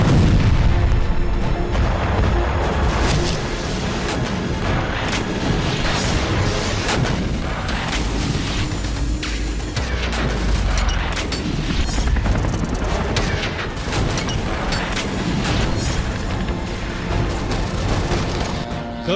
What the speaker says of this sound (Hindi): क्रीमिया में हो रहे ये तमाम धमाके।